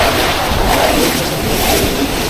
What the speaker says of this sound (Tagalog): Kaso ang lakas ng alon.